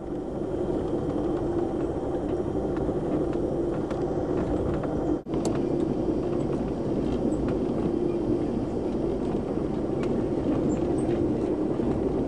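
A passenger train running late behind a faulty locomotive, heard from inside a roomette: a steady, loud low rumble of wheels and car noise continues throughout, with one brief sharp clunk partway through.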